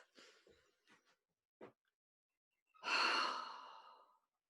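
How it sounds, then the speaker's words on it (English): A person takes a deep breath during a quiet relaxation exercise: a few soft, faint breaths are followed by one long, audible exhaling sigh, close and alone. "Okay, deep breath."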